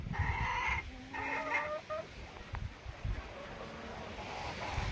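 Bantam hens cluck and call in a farmyard, several short bursts close by in the first two seconds, then quieter scattered clucks over light wind.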